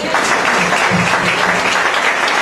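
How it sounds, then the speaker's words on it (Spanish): Loud, dense applause from a church congregation during a sermon, continuous and evenly spread across the whole stretch, with a few faint voices mixed into the clapping. "démosle un aplauso a Jesús por las mujeres también"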